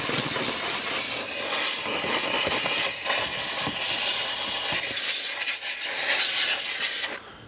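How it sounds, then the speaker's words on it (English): Handheld steam cleaner hissing in a steady, loud broadband rush while detailing an Acura MDX or BMW X7, held high and moved in circular motions, continuous for about seven seconds before cutting off abruptly. "Holding the steamer high up here, circular motions"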